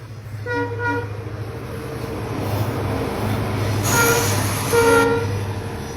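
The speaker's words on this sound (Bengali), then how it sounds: "দেখুন প্যাসেঞ্জার ট্রেনটি ঠিক সামনে যার" A passenger train rolls past at a railway crossing with loud, continuous rumble and rattle of wagons, and a horn sounds in short tonal blasts, near and filling the whole stretch.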